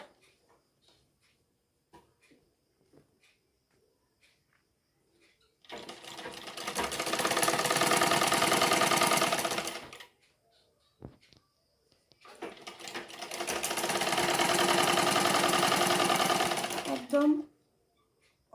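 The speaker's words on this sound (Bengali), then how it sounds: "অল্প একটু রেখে তারপর আমরা সেলাইটা করে নেব" A sewing machine stitches petticoat fabric in two long, steady bursts of rapid whirring, each lasting several seconds, separated by a quiet pause with faint handling noises.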